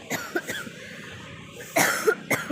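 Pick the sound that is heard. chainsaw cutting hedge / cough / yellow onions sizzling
cough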